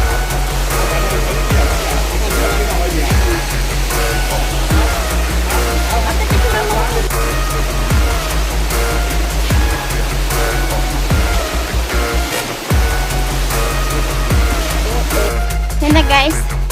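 A steady, loud roar of rushing water comes from the bottom falls of a Hong Kong waterfall trail, heard up close. A rhythmic music beat runs over it, and voices can be heard.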